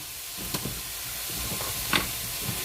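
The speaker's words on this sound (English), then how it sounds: "give your onions and peppers a little stir here" Onions and peppers sizzling in a pan, a steady hiss close by with scattered scraping and clinking as they are stirred.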